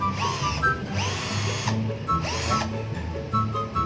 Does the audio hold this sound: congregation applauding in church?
no